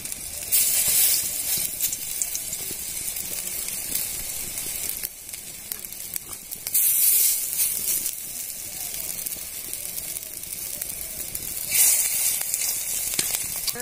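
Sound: frying pumpkin flower fritters in a wok

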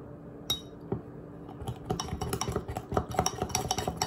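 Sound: fork mixing mug cake batter in a mug

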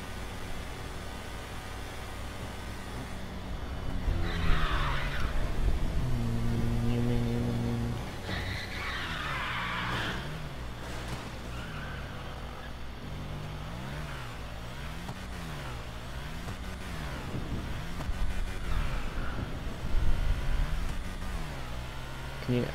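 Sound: go-kart engine at full speed in GTA 5 video game

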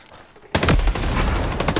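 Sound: gunfire in the video game Ghost Recon Breakpoint

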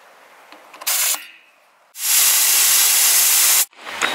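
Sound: air hissing out of Land Cruiser tires while airing down

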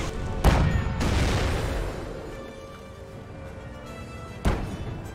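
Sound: mortar fire in the video game Company of Heroes

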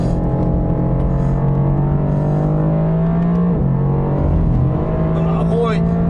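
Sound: Mercedes-AMG GT R Pro sports car driving on race track

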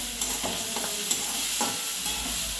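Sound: roasting ingredients in a pan for vada pav

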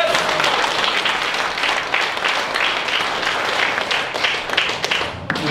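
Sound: congregation applauding

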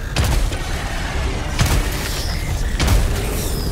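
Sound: grenade explosion in video game Helldivers 2

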